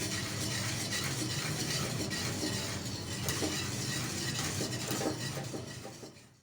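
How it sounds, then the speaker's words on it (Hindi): Rice kheer with almonds, pistachios and cashews stirred in a pot, a steady soft bubbling and scraping under faint metal clinks, continuous and close. "पिस्ता, काजू, चलाते रहेंगे।"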